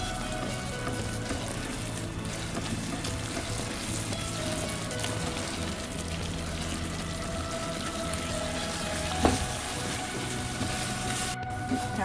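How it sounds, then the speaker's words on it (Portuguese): Flour dough cooking in boiling quinoa broth while being stirred, a steady bubbling, sizzling simmer with soft stirring, close and continuous, with one brief knock near the end. "E agora nós vamos mexer nessa massa. Cozinhar essa farinha."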